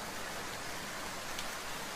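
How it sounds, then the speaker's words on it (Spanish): Steady rain falls throughout, a dense even hiss with no thunder and no voices, heard as an ambient effect in an animated story scene. "Está lloviendo muy feo."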